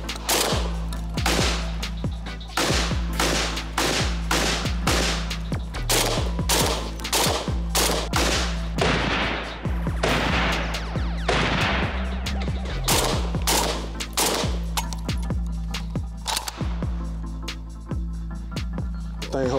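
A Black Aces FD12 shotgun fires many loud, sharp blasts close by in quick succession, with short pauses between volleys and occasional voices between the shots.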